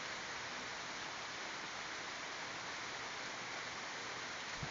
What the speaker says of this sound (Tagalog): Tatlong araw nang ulan dito